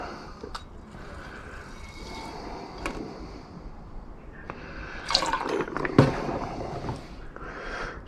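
Water running and splashing as gold corner BGA chips are rinsed in a container, a soft continuous trickle with occasional drips and clinks of small parts, fairly close and without speech.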